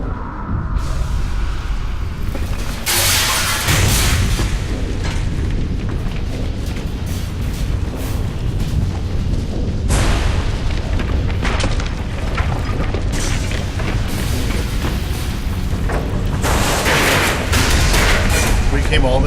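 Gunfire and booming explosions in the video game Mass Effect, loud repeated blasts and rapid bursts throughout, with a voice talking over the action.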